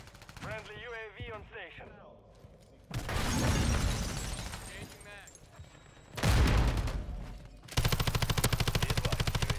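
A Kastov LSW light machine gun fires in MW3 multiplayer in loud sustained bursts of rapid automatic shots, the longest a steady rattling stream near the end, mixed with game effects and a player talking.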